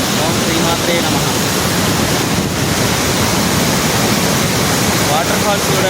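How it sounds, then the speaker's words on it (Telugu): A waterfall roars in a loud, dense, unbroken rush of falling water, constant and close throughout. "వాటర్ ఫాల్స్ కూడా ఎట్లా పడుతున్నాయో."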